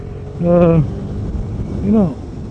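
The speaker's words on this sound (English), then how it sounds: "this sounds amazing, man. Sounds throaty. It sounds like a bloody motorcycle" The single-cylinder engine of a 2017 KTM RC 390 motorcycle idles with a throaty exhaust note and gives two quick revs about a second and a half apart. It is close and loud, with some wind noise.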